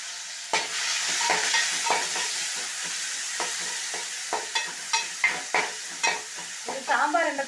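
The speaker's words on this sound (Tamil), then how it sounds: "இப்போ அடுத்தது ஆனியன் போடுறேன்." Onion frying in a hot oil tempering for Tamil Nadu sambar, a steady close sizzle with repeated scraping stir strokes that grow sharper and more frequent toward the end, no voices.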